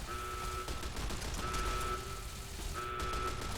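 Gunfire in the video game Fallout: New Vegas, a steady run of shots over a repeating beeping alarm tone, moderately loud with no talk.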